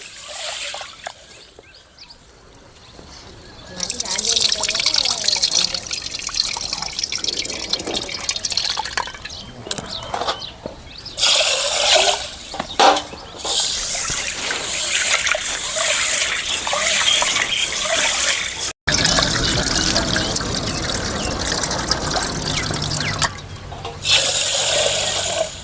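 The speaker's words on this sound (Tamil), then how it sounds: "நல்லா தண்ணி ஊற்றி கழுவி 2-3 முறை சுத்தம் பண்ணிக்கணும்." Water is poured and sloshed over cowpeas being washed in a kitchen, a steady close splashing and gushing that stops briefly and resumes several times.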